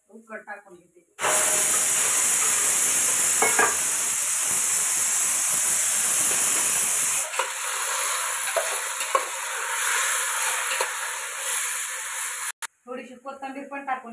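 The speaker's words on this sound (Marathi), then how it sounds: "कांदा लाल झालाय, उकड टाकून घेते।" Chicken stock poured into a pan over browned onions bursts into a loud, continuous hissing sizzle that lasts about eleven seconds, with brief talking before and after.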